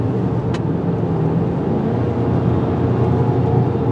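A 2023 Ford Maverick Tremor truck with an 8-speed automatic drives on a road at roughly 2,000 to 3,000 RPM. Its engine and road noise make a steady, even drone throughout, with no voices.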